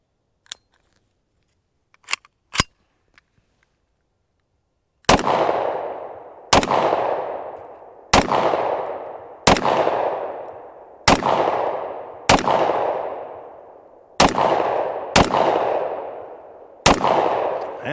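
Shots from a Hi-Point JXP10 10mm pistol ring off steel reactive targets outdoors, about nine sharp reports at a steady pace, each trailing a bright metallic decay, after a few faint clicks and quiet handling.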